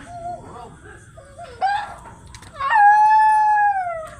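A Siberian husky lets out a long, rising howl with clear harmonics, preceded by short whines and yips, fairly close and loud.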